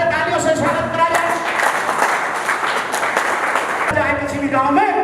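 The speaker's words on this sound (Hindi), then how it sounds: "तालियों से स्वागत करा जाए।" An audience applauds to welcome a guest at a public meeting, a steady wash of many hands clapping throughout while a voice speaks over it.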